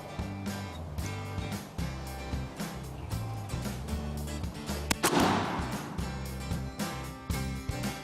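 A single sharp gunshot rings out mid-clip during a squirrel hunt outdoors, loud and echoing, set against a busy background of rustling and low noise, with no voices.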